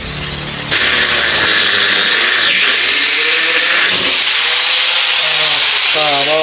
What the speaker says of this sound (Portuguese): Marcação feita, agora a gente vai entrar com esmerilhadeira.